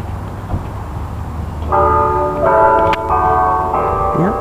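Church bells ring out with a loud, sustained metallic tolling that overlaps in layered tones, fairly close, after a quieter moment of background noise.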